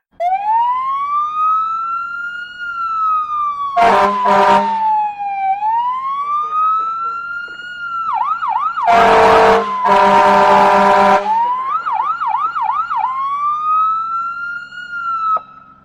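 Loud fire engine sirens wail and yelp nearby, rising and falling in sweeps, with blasts of an air horn cutting in twice, as an American engine company responds to a structure fire.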